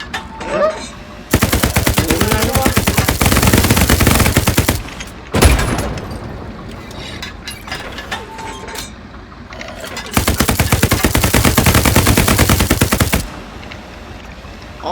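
Heavy machine-gun fire in the World War II shooter Hell Let Loose: a long, dense burst of rapid shots, then quieter scattered battlefield noise, then a second sustained burst, all loud and close.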